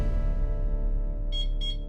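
A house panic alarm sounds two short, bright electronic beep bursts near the end, over a steady low hum and broadband background, fairly close and clear.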